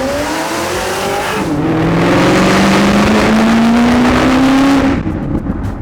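A 2005 Ford GT driving fast, its engine loud and close as it revs up through a rising tone, then drops away at the end.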